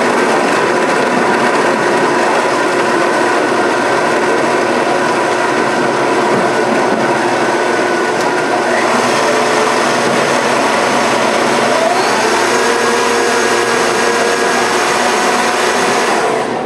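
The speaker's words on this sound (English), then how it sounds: "You stick it all in the blender. We're going to blend it up until it's nice and smooth." A blender runs loud and continuous, its motor whirring and churning thick vegan oat batter with a slight shift in pitch partway through.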